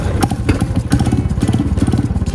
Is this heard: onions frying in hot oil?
no